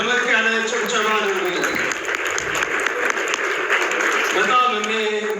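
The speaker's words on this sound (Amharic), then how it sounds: "ደመቅ ያለ ጭብጨባ ነው" Lively applause from an audience at an event, steady and fairly loud, with talking and cheering voices mixed in.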